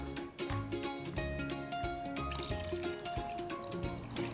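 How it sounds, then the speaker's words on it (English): Water pours and splashes into a pan of cooking pork adobo, a busy trickling and sizzling wash that runs steadily throughout at moderate volume. "And then that 1 cup of water."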